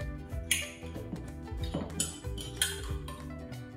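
A spoon clinks and scrapes against a cup while mixing mug cake batter with yogurt, producing several sharp metallic taps and stirring rattles over a soft musical background.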